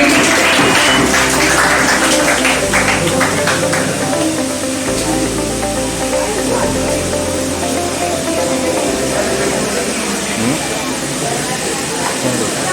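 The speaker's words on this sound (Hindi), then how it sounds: "जोरदार ताली।" A crowd claps hard and continuously at a school award ceremony, a thick hissing roar of applause lasting several seconds under music with a low beat and an occasional speaking voice.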